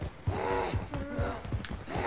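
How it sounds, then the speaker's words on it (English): Heavy breathing in the Call of Duty video game, loud close gasps and snorting breaths repeating every half second or so in a steady rhythm. "God, I do not like the breathing, it's so loud"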